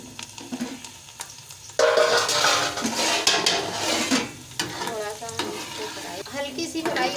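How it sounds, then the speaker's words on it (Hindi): Garlic and slit green chillies fry in hot oil for the tadka of kadhi pakora. A loud sizzle and crackle bursts in partway through, with stirring clatter and bubbling. "हल्की सी फ्राई हो गई है हरी मिर्ची और ये।"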